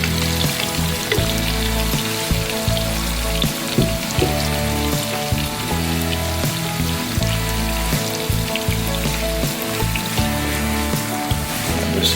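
Curry shrimp and bean sprouts stir frying, a steady dense sizzle that sounds almost like rain, loud and close throughout with no talking.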